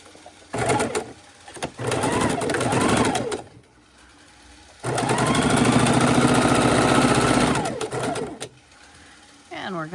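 A sewing machine stitches a strip onto a potholder block in short, loud bursts of rapid whirring, starting and stopping several times with brief pauses between runs and a voice talking alongside.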